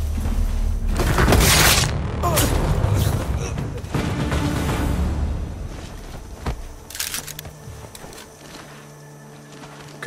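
Gunfire in the PC game Sniper Ghost Warrior Contracts 2, a loud burst of shots and booming impacts followed by scattered sharper reports that fade into a quieter rumble, with game voices over it.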